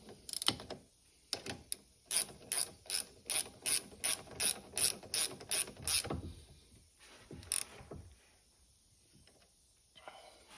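A ratchet snugs up a bolt on a 2024 CFMOTO ZFORCE 950 during rear wheel bearing work: a series of about a dozen crisp, rhythmic clicking strokes up close, then a pause and a few isolated clicks.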